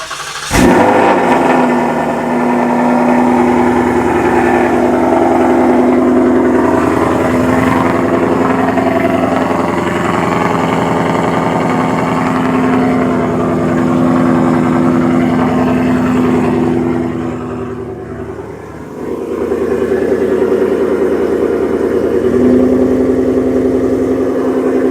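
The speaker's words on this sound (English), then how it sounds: "we're gonna give it one more start with the exhaust so we can hear it" A car idles steadily with a newly installed catback exhaust, a loud, continuous low rumble with strong drone tones that dips briefly near the end before settling back, with no talking over it.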